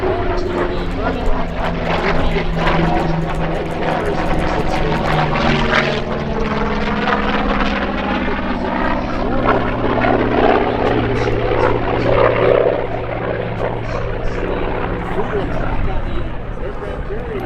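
A WWII gull-wing propeller fighter at an airshow rolls overhead, its piston engine droning loudly and rising and falling in pitch as it passes. A commentator talks over it throughout.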